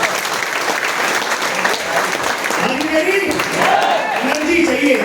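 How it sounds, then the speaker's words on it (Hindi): An audience at a Vestige business seminar in India breaks into loud, sustained applause, a dense wash of clapping that swells toward the end. "जो लाया है सिर्फ उसके लिए ताली बजा लेना"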